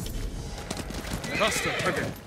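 A horse in the samurai game Ghost of Tsushima lets out a loud, close whinny over hoof clip-clops and background game sound, while someone speaks.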